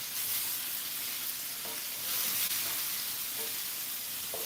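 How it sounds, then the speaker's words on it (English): Beet greens fry in a pan with a steady, close sizzle and hiss, a continuous crackling wash with faint stirring scrapes and no talk. "Did I wake you up with my sizzles?"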